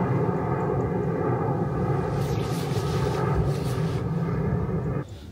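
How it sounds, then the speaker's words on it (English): A plane passes overhead in a quiet countryside spot, giving a steady, broad roar that stays loud throughout and drops away sharply near the end. "there's a plane going over, so I might just wait until it's gone over because it's louder"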